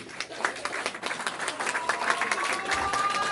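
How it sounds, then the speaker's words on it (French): Guests at a fiftieth birthday celebration for Léonie applauding in a continuous, fairly close burst, with crowd voices mixed into the clapping. "On applaudit pour Léonie."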